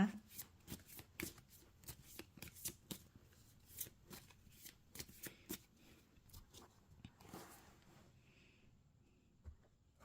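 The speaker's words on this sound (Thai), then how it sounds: "ขอเป็นตัวแทนสับไพ่ตัดไพ่ให้คนเกิดวันพุธนะคะ" Tarot cards shuffled and cut by hand, giving a steady run of soft riffling slaps and taps that thin out toward the end, close and fairly quiet.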